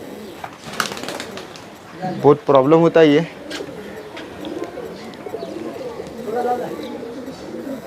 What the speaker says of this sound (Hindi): ये देखो अमोल भाई छोड़ रहे कबूतर